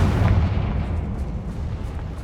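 Confringo fire-blast spell explosion in Hogwarts Legacy, a loud close boom that rolls into a long rumbling decay filling the whole stretch, with no voices.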